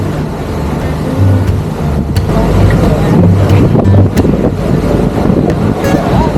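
A ferry bound for Indonesia from Batam chugs through backwater toward the open sea, its low engine rumble steady under heavy wind buffeting close to the microphone.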